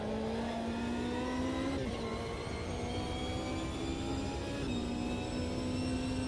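A GT1 race car in the Automobilista 2 racing game, its engine droning loudly and steadily, pitch climbing and dipping through gear changes, heard alone and close.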